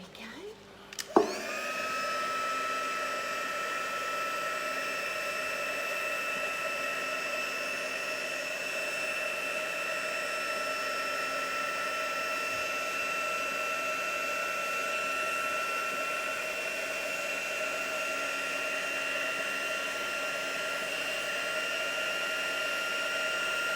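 A heat tool sets stamped ink on a card, switching on with a click and then blowing a loud, steady whirring hiss for about twenty seconds without pause.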